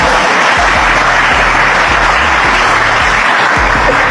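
An audience applauds loudly at a public gathering in Indonesia, a thick continuous roar of clapping with a low rumbling undertone, close and sustained throughout.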